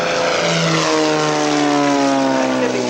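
A propeller aerobatic display aircraft, stressed to plus and minus 10 G, drones overhead at an evening air show at Shuttleworth, a sustained loud engine tone with slowly shifting pitch as it passes.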